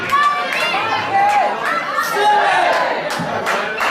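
A wrestling crowd cheers and shouts steadily throughout a bout between two wrestlers, a loud, dense roar with scattered yells and whistles.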